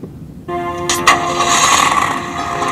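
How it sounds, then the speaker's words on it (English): A Jeep engine cranks and catches after a quiet moment, with mechanical clatter from the starter, then settles into a steady, fairly loud running rumble. "getting the engine going didn't seem to be a problem"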